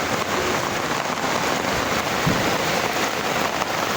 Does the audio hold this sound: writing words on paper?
no